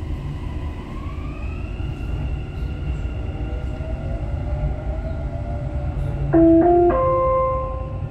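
A Dubai Metro train pulls away with an electric motor whine that climbs steadily in pitch over a continuous low rumble, then a few bright chime tones ring out near the end.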